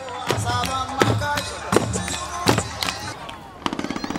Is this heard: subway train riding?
no